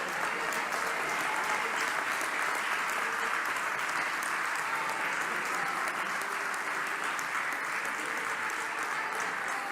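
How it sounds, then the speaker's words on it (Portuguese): A church congregation applauds in steady, dense clapping that fills the whole stretch at an even level, with no voices rising above it. "Vocês podem aplaudir a Jesus, adoradores?"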